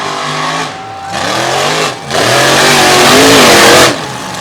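Scooby-Doo Ford Ranger unlimited-class mud racing truck, driven by John Stevens, revs hard in loud rising and falling bursts of engine roar, close and continuous with brief dips between pulls.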